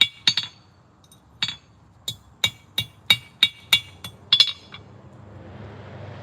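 A hammer strikes quarter-inch mild steel at a forge to bend it, ringing metallic blows in an irregular series of about a dozen hits, some in quick doubles, followed by faint background noise.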